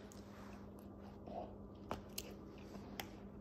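Someone bites into a smoked bratwurst topped with onion and stadium sauce, giving a few soft, close crunches and chewing sounds, very quiet, with no talking.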